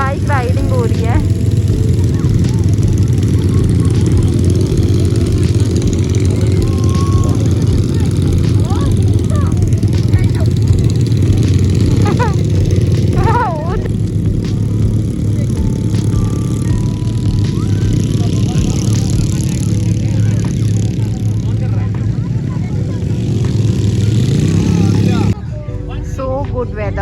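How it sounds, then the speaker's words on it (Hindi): Motorbikes riding on a Dubai desert safari, a steady, loud engine drone with some revving, going on throughout alongside wind noise and occasional talk. "बाइक राइडिंग हो रही है।"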